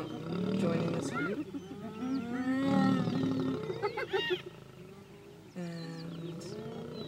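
Lions roar and call among hyenas as a lioness joins the group, deep moaning roars and grunts rising and falling close by, with a person talking quietly in between.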